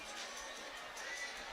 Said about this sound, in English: The student section is loud.